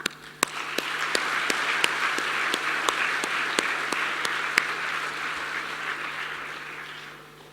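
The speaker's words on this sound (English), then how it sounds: "I commend them and ask you to join me in applauding them." Hall audience applauding honoured alumni at a business school alumni event, a sustained, even round of clapping in a large room, with a few sharp individual claps standing out above it.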